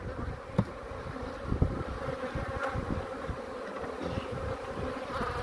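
Honey bees in a crowded summer hive, opened for inspection with honey and brood frames, make a dense, steady buzzing that fills the whole clip. A few louder, closer passes rise briefly above the swarm hum. No one talks.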